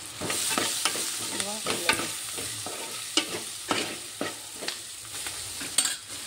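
Onions frying in oil for a curry, a continuous close sizzle with a spoon stirring and scraping the pan in irregular clicks and strokes.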